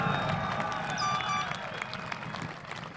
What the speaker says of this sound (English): So please join me in a big, loud applause, everybody